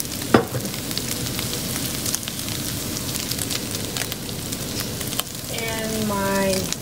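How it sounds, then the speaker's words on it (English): Cabbage and peppers sauté in a hot pan with seasoned ground turkey, giving a steady close sizzle throughout. A single knock sounds early on, and faint tonal clatter comes near the end. "now I'm going to add my cabbage and peppers"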